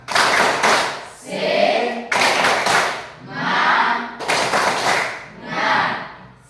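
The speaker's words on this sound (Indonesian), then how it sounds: "Tepuk semangat." An Indonesian school class does the rhythmic spirit clap (tepuk semangat), with sharp sets of group claps alternating with shouted chanting voices in a repeating pattern.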